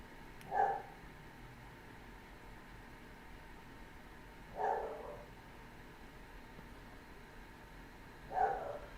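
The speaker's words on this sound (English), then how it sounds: "You guys are going to have to excuse my dog. He barks at everything." A dog indoors barks three times, single sharp barks spaced about four seconds apart, muffled and somewhat distant against a faint steady background hiss.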